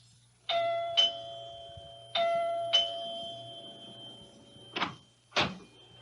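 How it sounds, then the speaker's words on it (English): A doorbell chimes ding-dong twice in a quiet room, followed by two duller thumps. "rings the doorbell"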